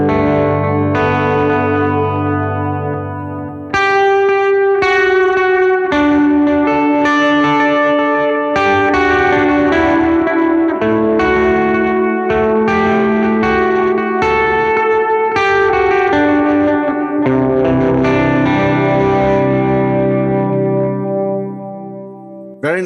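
Electric guitar played through a hot-running amp plugin with a thick reverb and compressed delays, ringing chords and sustained notes blooming into a wide, wet tail; loud and continuous, with no talking.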